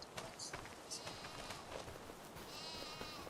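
Sheep bleat faintly and intermittently near hay bales on a homestead, the calls sitting under steady outdoor noise.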